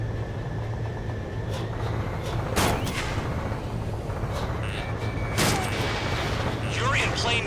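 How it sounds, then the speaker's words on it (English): Anti-aircraft fire in the video game Ace Combat 7 sounds as a few sharp bursts and booms over a constant jet engine drone, with radio chatter faint in the mix. "They almost got hit by AA fire."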